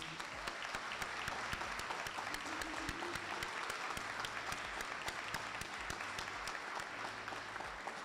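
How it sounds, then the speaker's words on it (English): Audience applause at a City of Mount Vernon Fire Department swearing-in ceremony, steady and dense, with clapping filling the room for about eight seconds and no speech over it. "If I could just get a round of applause for the Mount Vernon Fire Department, please."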